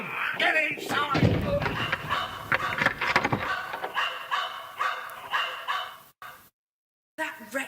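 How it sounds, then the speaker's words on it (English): Dog barking loudly and repeatedly in a dramatised Famous Five audiobook scene, the barks mixed with shouting voices and bangs, then a short silence before more noise. "Out of there for that dog, he's dangerous!"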